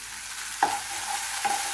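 Ginger-garlic paste with coriander-cumin paste, green chilli and a bay leaf frying in a pan: a soft, steady sizzle with two brief spoon clinks against the pan, no talking.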